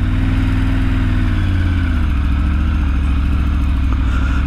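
Car engine running loud and close after a downshift, a steady low rumble with the pitch dropping partway through and then holding at a lower drone.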